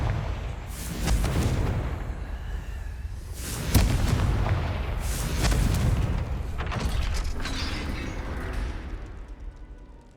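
A Confringo fire spell explodes in a PlayStation Harry Potter game, a loud booming blast followed by rumbling bursts and crackling debris that swell again midway and slowly fade, with no talking.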